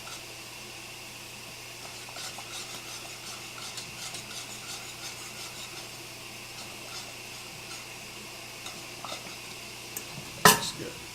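Thickening cheese sauce for mac and cheese being whisked in a pot, with soft, continuous rhythmic metal scraping over a steady hum, ending in one sharp clatter.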